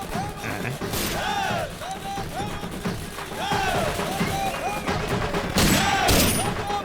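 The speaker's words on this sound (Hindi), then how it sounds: "देखो कैसे फायरिंग कर रहे हैं।" A film scene of celebratory gunfire at a Raja's birthday party, with a clamorous, continuous barrage. Shouts and whistling voices run through the festive crowd.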